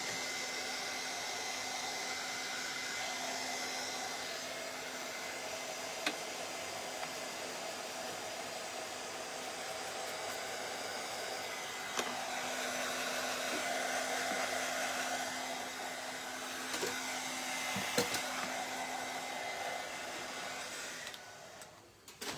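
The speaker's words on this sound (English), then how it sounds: "let's see if we use the hair dryer" A hair dryer blows steadily and close for the whole span, drying paint on an old scale, a constant whooshing hum with a faint tonal whine and a few small knocks near the end.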